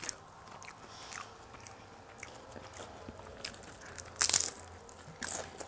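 Bites into a Taco Bell loaded taco come through as crisp, crackling crunches, mostly faint, with a sharp loud crunch near the end and a smaller one just after, over a low background hum.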